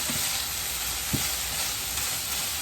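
Steak and onions fry in a pan, giving a steady close hiss and sizzle with a couple of brief scraping clicks and no talking.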